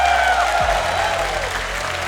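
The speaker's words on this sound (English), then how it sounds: "Let's give another round of applause, shall we? So they can hear it backstage" Audience at a fan convention song contest applauding the competitors, a loud continuous wash of clapping and crowd noise in a large hall, with a low sustained hum underneath.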